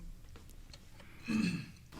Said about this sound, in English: I had a cough there.